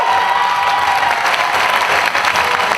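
Loud, sustained applause from a crowd at an improv match final, thanking the two teams, Le Troupeau and Les Chevaliers de l'Imaginaire, with dense continuous clapping throughout.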